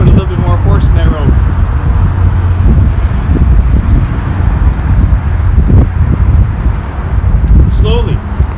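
Steady wind buffeting the microphone outdoors, a continuous low rumble with a person talking over it throughout.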